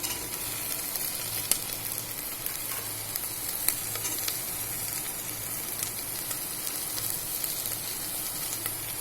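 Capsicum and onion sizzle steadily in a hot frying pan while capsicum and potato pulao is prepared. A constant crackling hiss of frying fills the clip, close and even, with no voices.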